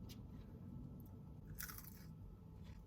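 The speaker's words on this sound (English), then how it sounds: "Can you hear that crunch? That's a good crunch." A single crisp, crunchy bite into Wendy's breakfast food, heard close and quiet with no talking, followed by a few faint chewing crunches.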